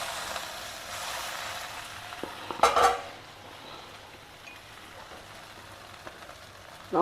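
Steamed palak moong mini idlis are tossed in a pan with a soft sizzle and a burst of clattering pan and utensil knocks near the middle, then a quieter, steady fry with a final clink.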